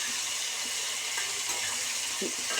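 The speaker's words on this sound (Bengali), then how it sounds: "চিংড়িটা ভাজা ভাজা হয়ে যাচ্ছে" A steady, even hiss of shrimp frying in a pan, close and continuous, with a few faint clicks and no voices.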